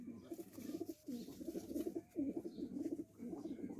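A female pigeon coos in soft, low, throaty bursts with brief gaps between them, close and fairly quiet against a light background hiss.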